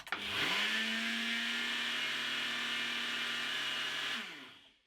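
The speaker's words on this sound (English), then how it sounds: "Pop it onto the NutriBullet." A NutriBullet blender grinds bath bomb ingredients: the motor spins up quickly to a loud, steady high whine, holds it for about four seconds, then winds down and stops.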